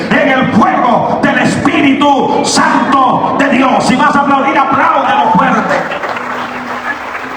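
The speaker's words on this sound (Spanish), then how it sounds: "Si vas a aplaudir, apláudelo fuerte." A church congregation claps loudly during a Spanish-language sermon, steady applause mixed with voices and cheers, fading somewhat toward the end.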